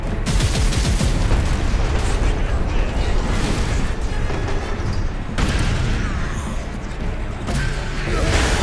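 Dense, continuous gunfire roars through a Warhammer 40,000 Space Marine – Master Crafted Edition battle, loud and close, with heavy booming bursts layered on rapid shots throughout.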